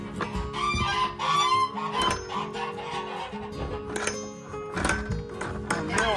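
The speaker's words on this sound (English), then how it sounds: "Okay, geese, I hear ya." Geese in a farm coop give repeated honking, clucking calls in irregular bursts close by, layered and fairly loud, with faint tapping sounds among them.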